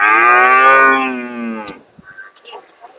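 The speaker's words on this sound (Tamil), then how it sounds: "கடைசியாக இந்த ஒரு மொட்டை மாடு" A hornless cow at the Seenapuram cattle market lets out one long, loud, close moo. Faint scattered market noises follow once it stops.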